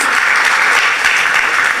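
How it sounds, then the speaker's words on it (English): A crowd applauds, a dense, steady wash of clapping at even loudness throughout, with no voices on top. "Shall we all give a round of applause?"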